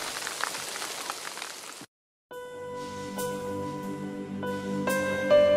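Rain falls steadily in early summer grouse habitat as a soft hiss for almost two seconds, then breaks off into silence before tonal sounds follow.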